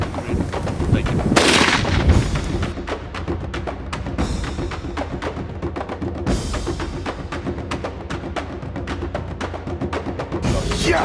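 A loud, close rifle shot cracks out on an African lion hunt during a Thwane Safaris outing, followed by a stretch of softer clicks and knocks against a rumbling outdoor background.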